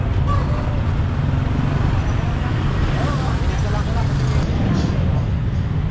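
Steady, dense road traffic rumble at night on the way to The Victor in Pasig City, with cars and buses droning continuously and close by, no breaks or distinct passes.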